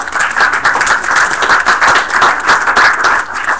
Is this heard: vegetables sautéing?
no